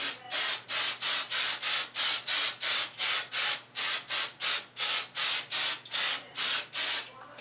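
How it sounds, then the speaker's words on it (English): Hairspray sprayed over hair in a rapid series of short hissing bursts, about twenty evenly spaced pumps, close and fairly quiet with no talk. "Then you want to get the hairspray"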